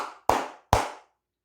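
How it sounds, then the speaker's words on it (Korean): A few sharp hand claps, just two distinct loud claps about half a second apart, each with a short decaying tail, close and alone with no talk. "오늘 꽤 괜찮은 모습을 보여주기 때문에 우리 모두 크게 박수 한번 치고 가도록 하겠습니다"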